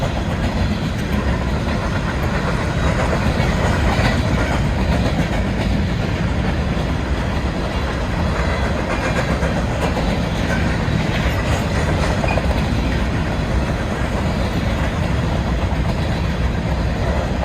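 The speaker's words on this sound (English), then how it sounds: "That's a BNSF grain train." A BNSF grain train rolls past at Kennewick, Washington, a loud, steady roar of wheels and cars with rhythmic clatter that continues without pause throughout.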